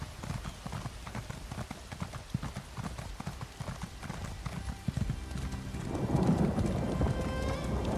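A horse mount in Elder Scrolls Online trots in a rapid, even clip-clop of hooves, close and prominent throughout, with a rumbling wash of ambient game sound swelling in the last couple of seconds.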